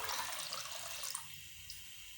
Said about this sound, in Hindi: स्पैगेटी उबाइल करने के लिए मैं यहाँ पे पानी डाल रही हूँ